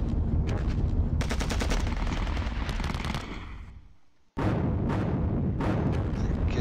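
Sustained automatic gunfire from the Panzer Battles Kursk wargame, dense rattling bursts running loud and continuous for about four seconds, cutting out briefly, then resuming just as heavy.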